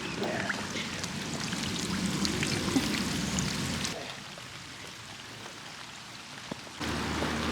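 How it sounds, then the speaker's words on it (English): Heavy rain falls steadily on and around a narrowboat on a UK canal, a dense hiss that drops back for a few seconds before returning at full strength. "It's really raining now."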